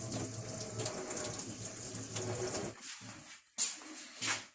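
A banknote is rinsed under a running tap: a steady close splash of water for a few seconds, cut off briefly, then two short bursts of flow against the sink, with no voices.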